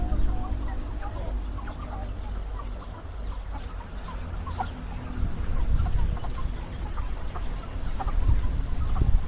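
A flock of hungry farm chickens clucks in scattered calls over low rustling and handling noise, nearby and moderately loud throughout.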